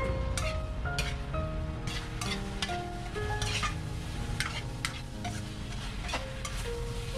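Pork strips, napa cabbage, carrot and glass noodles stir-fried in a wok, a steady close sizzle with repeated scraping and clacking strokes of the spatula throughout, no voices.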